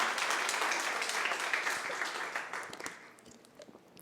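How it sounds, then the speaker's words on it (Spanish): A church audience gives a round of applause at a service, with steady clapping that gradually thins out into a few separate claps near the end. "Démosles aplauso bien fuerte porque Él se lo merece."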